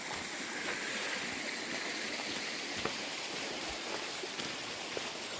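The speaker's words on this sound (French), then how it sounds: "on arrive à côté d'un petit ruisseau" A small stream in the woods on the descent toward the Lot valley, a soft continuous trickle and wash of water with a few faint drips, steady and moderately close with no voices.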